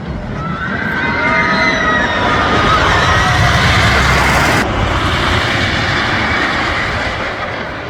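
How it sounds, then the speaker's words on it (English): Megafobia, a wooden roller coaster, roars past up close with a loud, continuous rumble that swells and then fades slightly over about eight seconds, a sharp shift midway as the train passes, no talking. "really establish a firm opinion on what is rated as one of the best wooden coasters in the country"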